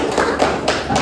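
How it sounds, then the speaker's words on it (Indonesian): A classroom gives applause for a student group, a brief burst of close claps and taps that rises and falls over about a second. "Jadi beri tepuk tangan untuk kelompok 1."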